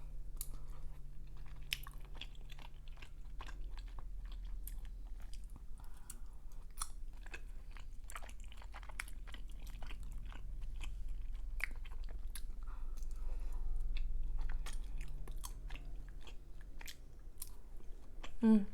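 Close, steady chewing and soft crunching during a mukbang eating show of tteokbokki spicy rice cakes and Korean fried wings, with wet mouth sounds continuing throughout over a low background hum.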